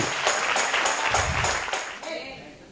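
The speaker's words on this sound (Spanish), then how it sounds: "Denle una ofrenda de palmas al Señor." A church congregation applauding, a steady patter of many hands clapping that fades out after about two seconds, with a voice speaking underneath.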